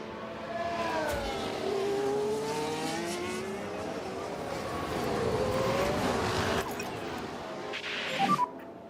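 F1 race cars lap a wet track in the F1 Manager 24 video game, with continuous engine whine and sweeping pitch changes as cars pass. The sound swells louder near the end and is mixed under faint talk.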